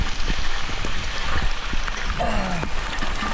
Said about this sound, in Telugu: సో వర్షం చాలా విపరీతంగా అయితే పడుతుంది